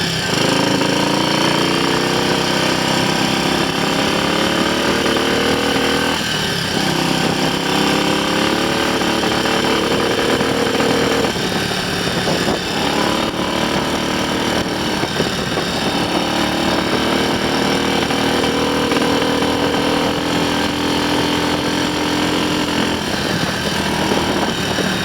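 Triumph Scrambles Cub replica motorcycle with a borrowed trials-bike carburettor runs with a loud, rapid, steady engine clatter close by, with rising and falling throttle blips and a slight splutter throughout.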